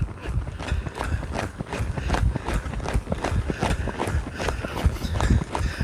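Hooves clip-clopping in a steady, even rhythm as a horse walks in an arena, close by and fairly loud throughout.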